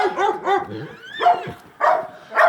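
A dog barks and yips in a quick series of sharp, close calls, with a whiny rising tone mixed in between barks.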